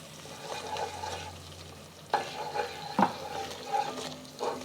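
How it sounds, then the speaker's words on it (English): Curry paste being stirred into coconut milk in a pot for Thai yellow curry chicken, with soft scraping and clinking of a utensil against the pot, a few sharper knocks standing out over a low background hum. "I just want to get this curry paste kind of mixed in."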